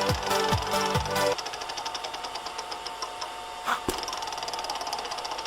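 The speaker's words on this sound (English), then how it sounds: "You can even use a hairdryer to spin it at inhumane speeds." A LEGO brick separator rigged as a fidget toy is spun by a hairdryer, giving a fast mechanical rattle with a few clicks at the start, then a steady whirring buzz that runs on alone.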